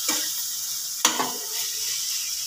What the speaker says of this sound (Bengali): সব মশলা ভালো করে মিশিয়ে নিয়ে